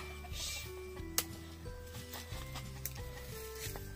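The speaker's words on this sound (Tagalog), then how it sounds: "Uy, manok!" Chickens clucking on a farm during a papaya harvest, a short run of stepped, throaty clucks close by with a sharp peck-like click partway through, over low rural background noise.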